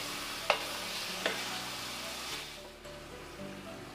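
Spices fry in a pan over low gas for a potato curry, a soft continuous sizzle with a couple of sharp clinks of a spoon against the pan early on.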